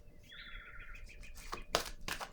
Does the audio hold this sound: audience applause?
no